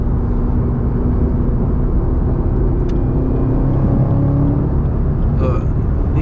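A Chevrolet Camaro ZL1 1LE driving through Atlanta: continuous loud cabin rumble of engine and road noise, steady throughout, heard from inside the car.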